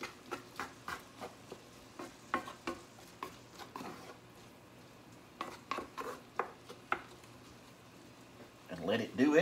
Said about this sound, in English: We'll get that all stirred in there.